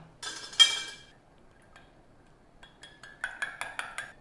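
A metal spoon rings against glasses of milk tea, first one bright clink, then after a quiet gap a quick series of five or six light taps, close and alone.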